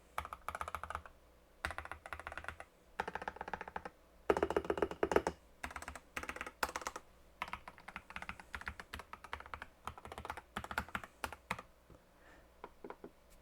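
Rapid typing on a SkyLoong GK75 mechanical keyboard with optical switches in several bursts, the keystrokes clicking and clacking with short pauses between runs.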